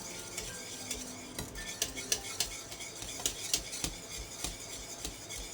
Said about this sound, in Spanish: queremos que aún esté un poco más espesita, así que voy a seguir removiendo